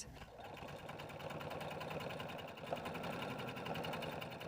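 Sewing machine stitching a fabric seam, a steady fast mechanical whir with rapid needle ticking that holds for the whole stretch, fairly faint and close, with no voices.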